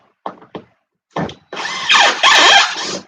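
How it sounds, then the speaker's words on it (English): A bandsaw cuts wood during construction of a Sig Kougar turtledeck: a few short knocks and bursts, then a loud sustained whining cut for over a second, close and alone. "I'm going to use my bandsaw here."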